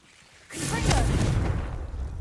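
In the video game Hogwarts Legacy, a Confringo blasting spell erupts after a brief quiet moment. The broad, roaring blast swells quickly and rumbles on steadily until the end.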